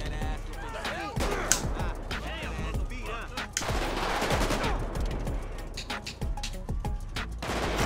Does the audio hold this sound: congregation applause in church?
no